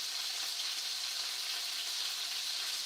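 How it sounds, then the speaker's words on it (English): Skirt steak sizzles in a hot pan with a steady, dense hiss that holds evenly throughout, close and fairly loud, with no talking over it. "Sorry, it's sizzly loud."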